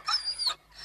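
A dog whimpers in a few thin, high-pitched whines close by, two rising cries followed by a brief pause and another starting, fairly faint and with no talk.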